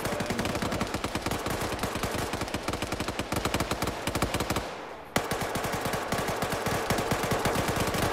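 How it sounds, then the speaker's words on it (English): Sustained automatic gunfire during a video game match: dense, rapid, loud bursts almost without pause, with one brief gap near the middle before the firing resumes just as heavily. "Lolo's getting shot to death by his feet, and then Flux finishes him off."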